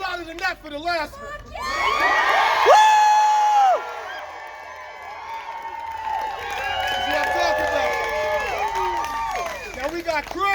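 Protest crowd at a march, many voices screaming and cheering loudly together in a sustained, swelling roar, with shouts and some clapping coming through.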